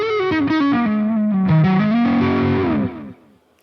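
An electric guitar on a festival rock stage at Guitar Summit 2024, played through distortion and effects, rings out sustained, overdriven chords and notes loudly, then cuts off and decays into silence near the end.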